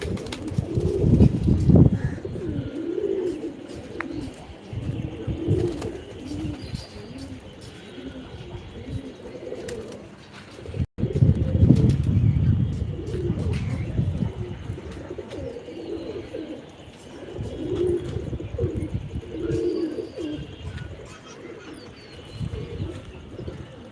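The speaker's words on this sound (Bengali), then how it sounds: "কবুতর" A pet pigeon coos in soft, repeated rolling calls, close by, for a long stretch with no talk over it.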